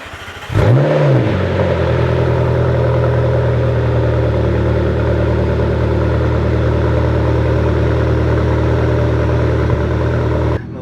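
McLaren car engine cold starting, a quick crank and catch, then a loud, steady, deep-throated high idle that holds evenly while it warms up, close by, until it cuts off near the end.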